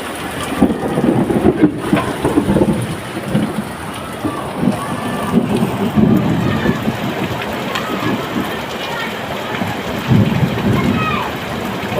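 Heavy rain pours steadily on surfaces, loud and close, with deep low rumbles of thunder mixed in and gusts of wind; voices speak faintly at times under the downpour.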